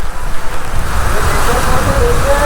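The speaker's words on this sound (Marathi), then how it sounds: "एवढा वारा आहे बेकार पाऊस वारा आणि पाऊस फक्त पाऊस नाही आहे" Strong wind buffets the microphone on a seashore during heavy rain, a loud, constant low roar with surf-like rushing throughout.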